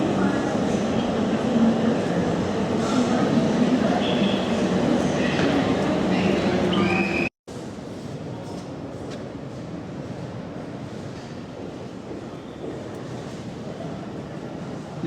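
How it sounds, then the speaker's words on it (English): A South London railway station with a train for the 12:42 Victoria service to Clapham Junction. Steady rumbling rail noise fills the platform, a loud, close roar that briefly cuts out midway, with voices heard over it. "My next train, the 12:42 Victoria service, going as far as Clapham Junction."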